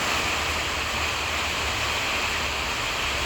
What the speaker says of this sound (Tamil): அது மழை சொட்டு சொட்டு சொட்டுன்னு கொட்டுது பாரு அங்கே.